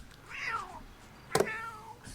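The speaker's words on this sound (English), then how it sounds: "I think your cat wants to come in." A cat meows twice nearby, a drawn-out mew followed by a sharper, brighter second cry, over faint background hiss.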